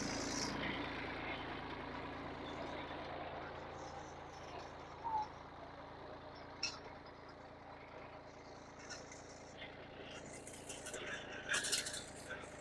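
A tractor engine runs at a distance with a faint, continuous low hum, while scattered clicks and brief sounds come and go over it.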